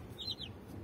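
A mother hen sitting with her six newly hatched chicks in a backyard garden gives a brief, faint cluck, a short rising call over low background noise.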